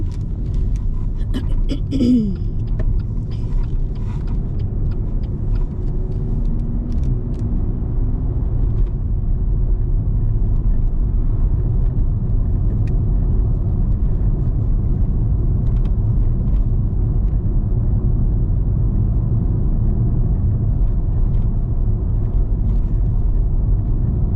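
Steady car engine and road rumble from inside a vehicle on a half-hour drive from Harlow to Chelmsford past farmland, a constant droning hum throughout with a few faint clicks early on.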